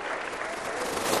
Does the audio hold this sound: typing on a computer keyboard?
no